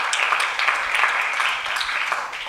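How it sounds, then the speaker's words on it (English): A conference audience gives a sustained round of applause for the organizers, dense steady clapping throughout with no talk over it. "Can we give them a round of applause?"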